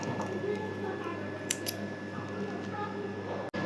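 Scissors snip crochet thread for a crochet hair tie, two quick close snips in a row against a quiet room with faint background voice.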